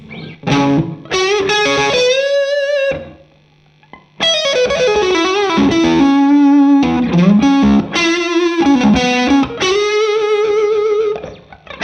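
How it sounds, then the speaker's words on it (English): Electric guitar through a Jan Ray overdrive pedal into a Morgan MVP23 amp, sustained chords and melodic lines, thick and gritty, with one brief pause near the start before the playing resumes. "So it's got a pushed tube amp sound,"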